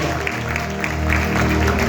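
Congregation claps for God during an evangelical church service, a steady close wash of applause filling the room throughout.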